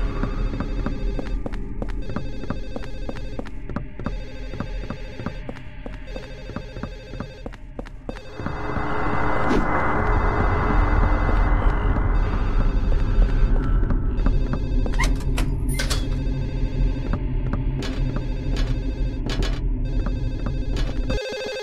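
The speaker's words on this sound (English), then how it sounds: "there's just a ringing phone that you need to search the building for" An unanswered telephone in the Silent Hill 4 video game keeps ringing in repeated electronic bursts, joined midway by a hissing, droning layer while the rings carry on, loud and close.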